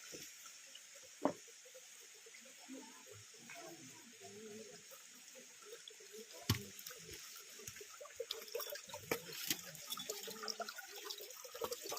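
Clean water flows at Ahobilam, a faint, steady wash with occasional soft splashes and clicks throughout. Brief distant sounds may be muffled voices.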